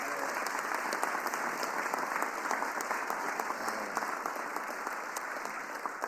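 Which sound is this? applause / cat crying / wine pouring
applause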